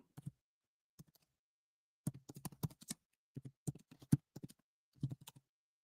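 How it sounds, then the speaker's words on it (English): Sparse keystrokes on a computer keyboard, quiet and close, single taps then small irregular clusters of clicks with pauses between them. "Just type it in."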